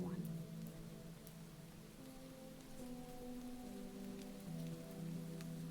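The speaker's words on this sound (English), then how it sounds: "I could sit here and listen to the rain." Soft, steady rain falls in a quiet, faint wash of patter with occasional distinct drops ticking on a surface, while gentle low musical tones hum underneath.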